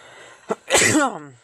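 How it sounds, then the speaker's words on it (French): A single sharp sneeze bursts out close and loud: a brief intake, then an explosive nasal blast that trails off, heard over a quiet game soundtrack. "T'éternues en vidéo quoi"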